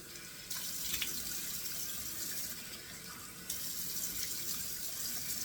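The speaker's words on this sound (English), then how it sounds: "I like to do 2 splashes of cold water to help start sealing up these pores." Cold water runs from a sink tap while a face is splashed at the basin before shaving, a close, steady gush with two louder surges as hands scoop and splash.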